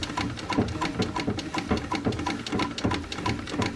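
A 1915 Singer Red Eye treadle sewing machine stitches in a steady, rapid mechanical chatter with a regular pulsing rhythm, close and fairly loud, with no talking.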